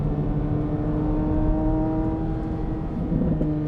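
A 2023 Corvette Z06 accelerating on a hilly race track, its engine a sustained tonal roar with a steady whine on top, heard loud and continuous without any voices.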